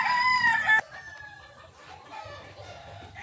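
A three-year-old Boston White gamefowl rooster crows loudly and close by in one short burst that cuts off abruptly, followed by faint background noise and quiet voices.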